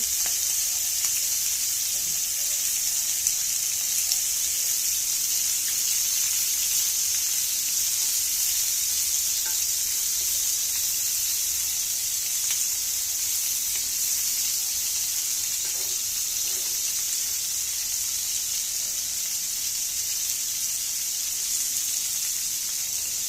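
Chicken pieces frying in a pan over lowered heat give a steady, loud, close sizzle that runs unbroken throughout, with no talking.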